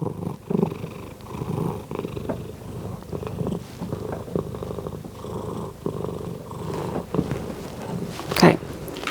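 A house cat purrs steadily and close for several seconds, with soft handling rustles and a brief louder scuff near the end.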